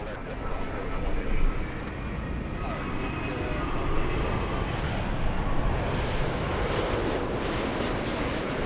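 An airliner takes off from runway 24 left at LAX, its engines a steady broad roar heard from a distance that swells slightly and holds throughout, with no talk over it.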